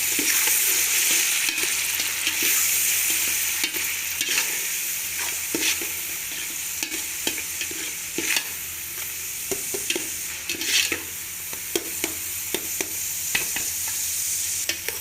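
Chillies and tomatoes fry in a pan while being stirred, a steady close sizzle broken by repeated scraping and clinking strokes of the spoon against the pan.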